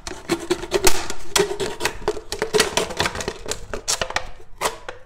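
A knife cutting into a plastic bottle, heard as a rapid series of sharp, close clicks and crackles in an irregular rhythm, with no other sound around them.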